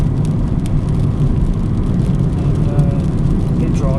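Vauxhall Astra Estate 1.6 running on LPG, driving in fourth gear, heard from inside as a steady loud engine drone and road rumble with no talking.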